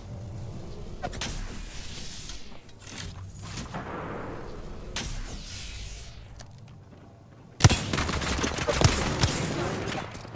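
Rapid bursts of gunfire from a console shooter video game crackle through the whole stretch, with a sharper, louder barrage of shots erupting near the end.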